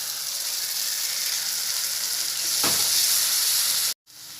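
Boiled tomato and chili paste hitting a hot pan in a potato curry, a bright continuous sizzle that swells with a sudden burst midway before cutting out briefly.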